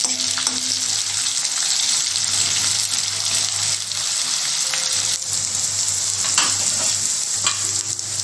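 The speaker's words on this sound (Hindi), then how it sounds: "अब हम इसमें एक प्याज महीन काट कर ऐड कर देंगे। इसको भी भून लेंगे गुलाबी होने तक।" Finely chopped onion frying in a pan, a loud, dense sizzle close up, with stirring scrapes and a low steady hum running underneath.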